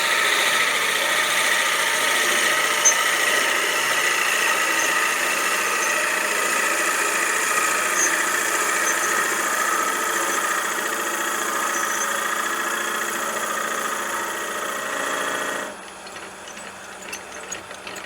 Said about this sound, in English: And now we're at an 1 5/8 Forstner bit. Again, we're just going to ease that on in there.